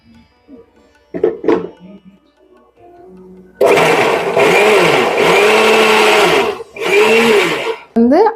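An electric blender whirs loudly as it beats plum cake batter with milk, with a steady high-pitched motor drone broken by a short pause, after some softer clinks and handling sounds at the start.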